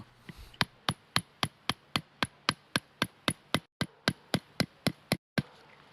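The broad blade of a Cudeman 299B Boina Verde survival knife is used as a light hammer, giving about twenty sharp, evenly spaced knocks at a quick, steady rhythm, close and clear with no talk.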